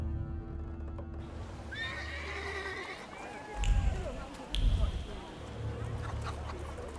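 Horse in The Thaumaturge gives a few whinnying neighs at mid distance, followed by heavy thuds and footfalls over a steady low ambient bed with faint background talk.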